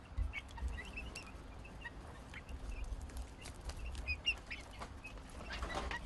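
Chickens being fed give soft, scattered clucks and gobbling calls against quiet background noise, a little distant, with a brief flutter of wings.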